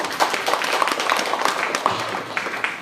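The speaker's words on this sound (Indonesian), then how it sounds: "Tepuk tangan dulu buat Balai POM dulu." Audience applause at a public outreach event on food and drug safety, a steady ripple of many hands clapping at moderate level throughout, with scattered sharper claps standing out.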